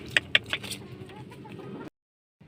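A double sweater gamefowl rooster gives a couple of short, sharp clucks close by, followed by softer low sounds from the bird and a brief silence near the end.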